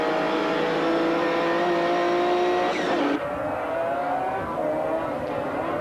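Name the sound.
GT race cars racing, Porsche 911 at Paul Ricard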